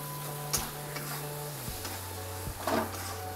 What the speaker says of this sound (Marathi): असं खिसून घालायचं अंडं, चांगलं मिक्स करायचं